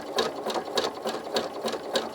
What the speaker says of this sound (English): just sew it all together until you get the height that you want